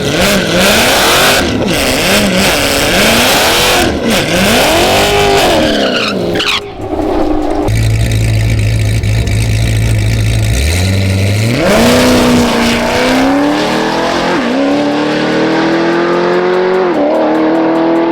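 A twin turbo C8 Corvette launches and accelerates hard at a drag strip, loud engine note rising through several gear shifts with tire skidding, a deep steady rumble mid-run, then climbing again up to a high whine.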